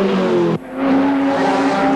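Holden Commodore Group C touring cars race at Bathurst in 1982. A loud engine roars close by, cuts off sharply as a car passes, then a second engine's rising drone comes in.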